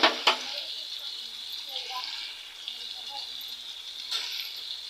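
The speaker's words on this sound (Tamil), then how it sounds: "இப்போது வெங்காயம் வதங்கிட்டு கொஞ்சம் கல் உப்பும் போட்டுக்கலாங்க" Chopped onions with rock salt sizzle and fry in a pan for a cauliflower gravy, a steady close hiss with a couple of sharp stirring clatters near the start and another near the end.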